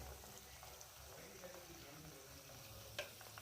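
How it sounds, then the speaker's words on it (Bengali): Semolina cheese balls fry slowly in oil over low heat, making a soft, faint, continuous sizzle with a few small pops. "আস্তে আস্তে একদম লো হিটে ভাজা হবে, নাহলে চট করে পুড়ে উঠবে।"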